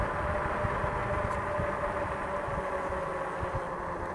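A steady low rumbling hum of e-bike tires rolling over pavement, with the motor not running, continuous and even with a faint high whine above it.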